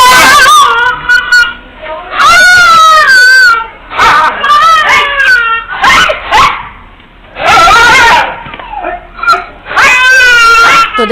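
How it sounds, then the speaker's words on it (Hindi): A stray dog attacks a young girl outside her home, with loud close screaming and crying from the child in repeated bursts mixed with barking and frantic yelps. "जब कुत्ता बच्ची पर हमला किया तो उसने काफी शोर किया"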